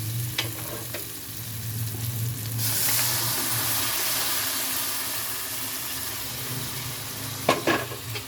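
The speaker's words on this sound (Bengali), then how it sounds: "এবার আমি ঘুগনিটা ঢেলে দেবো" Ghugni poured into goat fat and spices frying in a pan, a steady close sizzle that swells into a bright hiss, with a couple of sharp utensil knocks near the end.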